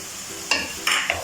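A utensil stirs egg noodles through soy and chili sauce in a hot sizzling pan, a few short scraping strokes over a faint steady sizzle, close and quiet.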